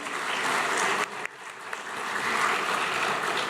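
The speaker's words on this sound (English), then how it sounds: "Can we have a huge round of applause for the sponsors, ladies and gentlemen?" An audience at an education event applauds the sponsors, a broad steady round of many hands clapping with a brief dip partway before swelling again, moderately loud.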